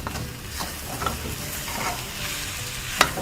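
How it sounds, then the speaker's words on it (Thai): Shark meat dry-roasting in a pan, a steady close sizzle with scraping stir strokes of a utensil and a sharp clink near the end. "คั่วไปเรื่อยๆจนแห้งแล้วก็ฉีกใบมะกรูดใส่"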